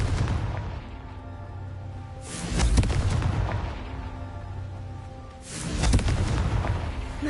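Two heavy blasting-spell explosions in a Harry Potter video game, deep booming bursts a few seconds apart with rumbling tails, loud and close.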